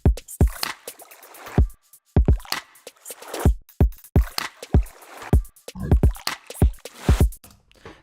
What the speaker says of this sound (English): just kind of laid a basic kick and clap pattern out, took bits of the water sample